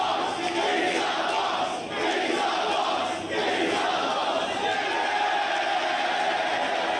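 A wrestling crowd at a Raj Dhesi vs Matt Cardona match chants loudly in unison, a continuous roaring chant that dips briefly once and then keeps going.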